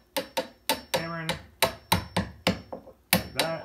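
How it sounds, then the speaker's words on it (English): Hammer striking a chisel while cutting into a wooden door jamb: about a dozen sharp, close metallic taps in a quick, slightly uneven rhythm, some ringing briefly, with no talking. "So I've just taken a hammer and chisel and I have just cut out what I thought was right on the jam"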